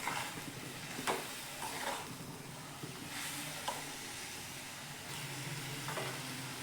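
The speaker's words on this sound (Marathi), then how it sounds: "आता याला आपण व्यवस्थित असं मिक्स करून घेऊयात." Chopped dill leaves fry in a kadhai with a steady close sizzle and hiss, broken now and then by a spoon scraping and stirring.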